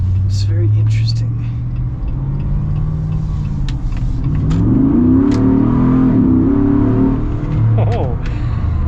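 A Jeep Gladiator 392 fitted with a V8 crate engine accelerates hard, its deep, loud engine note rising and swelling over several seconds as it revs up, with people talking over the roar.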